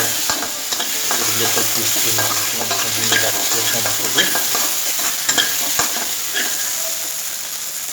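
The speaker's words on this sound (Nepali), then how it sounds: "हाम्रो प्याज अलमोस्ट फ्राई भइसकेको छ। अब चाहिँ हामी यसमा थोरै गार्लिकको पेस्ट राख्छौँ।" Onion and garlic paste frying in a pan for Tibetan-style keema noodles, a steady loud sizzle with repeated scraping stirs and clinks of the spoon throughout, with a brief voice over it.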